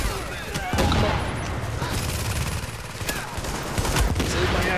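Rapid gunfire in The Division's Dark Zone, with bursts of automatic shots and overlapping reports cracking loudly and close throughout, as if in a chaotic firefight.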